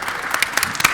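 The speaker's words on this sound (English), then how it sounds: "Again, let's clap for Al" Brief burst of audience applause at a communications and outreach seminar, many hands clapping fairly close and steady for about a second.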